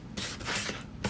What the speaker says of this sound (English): now I'm actually gonna use the sanding block